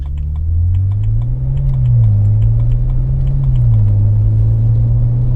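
Hazard lights ticking inside a BMW 335i with an N54 engine and a hybrid turbo, a misfiring car on its first drive: a steady, regular click over a constant low engine rumble.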